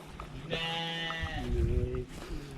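A sheep bleats loudly nearby in hilly countryside in Cagayan, Philippines, a long wavering cry followed by a lower second call, with faint outdoor background.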